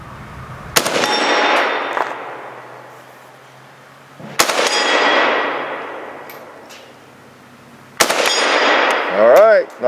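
Three loud, booming rifle shots ring out from an American-made AK, evenly spaced a few seconds apart, each with a long echoing decay across an outdoor range, the last followed by a faint metallic ring of steel.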